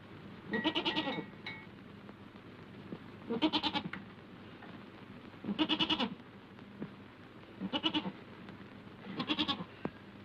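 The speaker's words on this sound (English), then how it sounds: "I think you're a beautiful goat." A goat bleats in a 1937 film. Five separate bleats come at intervals of about two seconds, each moderately loud and nasal, over a quiet background with no speech.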